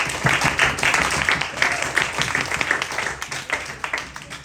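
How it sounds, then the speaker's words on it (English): Small audience at a Buddhist debate session giving one more round of applause, individual claps distinct and rhythmic, moderately close and tapering off toward the end. "give her one more bit of applause"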